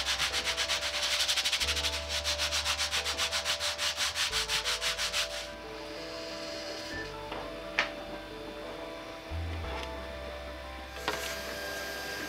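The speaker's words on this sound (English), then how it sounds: "And then I finished everything off by sanding it flat." A 3D-printed plastic part is sanded flat by hand with fast rhythmic rubbing strokes for about five seconds, then slower scraping and occasional taps and knocks, close up and with no talking.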